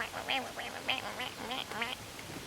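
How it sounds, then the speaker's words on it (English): Excited ducks quack rapidly and loudly, about seven raspy quacks in quick succession, close by with no talk. "When they're super excited, they quack a lot, very fast and loudly"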